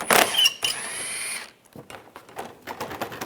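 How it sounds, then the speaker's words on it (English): An 8mm socket wrench turns a bolt loose on a Dodge Dart's active grille shutter, giving a loud burst of rapid ratcheting clicks followed by quieter, scattered mechanical clicks and creaks with no talking. "this is a 8mm socket I'm going to use to take this one out"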